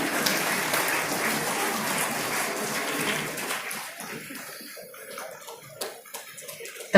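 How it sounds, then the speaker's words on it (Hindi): An audience applauds at a government ceremony in Jharkhand as a memento is presented to a minister on stage, giving a dense patter of clapping that thins into scattered claps, ending in a sharp loud burst. "तालियां भी आपकी ओर से हो।"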